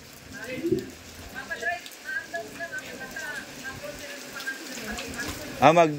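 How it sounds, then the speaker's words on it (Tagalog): Heavy typhoon rain patters steadily on a surface close by, a dense continuous hiss, while people talk over it. "Grabe po yung lakas ng ulan."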